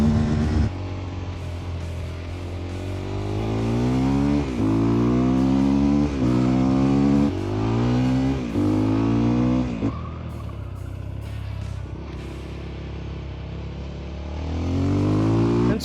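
Modified motorcycle with a throttle modification, riding and accelerating through a series of rising engine revs, with repeated upshifts and brief drops in pitch between gears, the engine note steady and close throughout.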